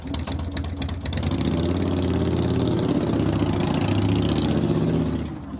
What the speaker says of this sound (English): It starts out with motorcycle noises.